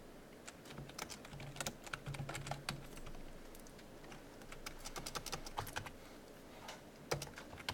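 Keys clatter on a computer keyboard as C# code is typed, a quick irregular patter of close, crisp clicks in short bursts, quiet overall with no talking.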